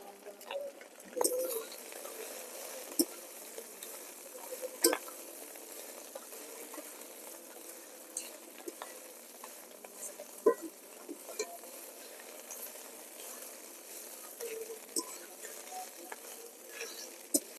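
Drumstick leaves with salt fry in a pan under a continuous bright sizzling hiss, with scattered light pops and occasional scrapes of stirring, close and steady throughout.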